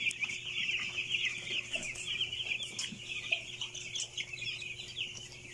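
Broiler chickens on a farm cluck and chatter continuously as a busy flock, a steady mass of overlapping calls at moderate distance with no speech.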